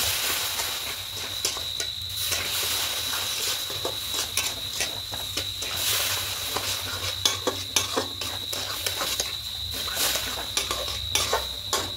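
Milk powder being stirred into a semolina and coconut mixture in a pan for coconut semolina nadu, with a constant hiss and rhythmic scraping and clinks of a spoon against metal, close up and wordless.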